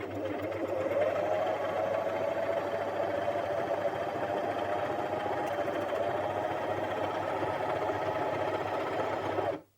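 A Janome 423S sewing machine stitches a buttonhole at mid-speed, giving a steady, even mechanical whir close by for nearly ten seconds before stopping abruptly.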